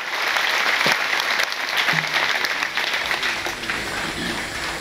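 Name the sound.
audience applause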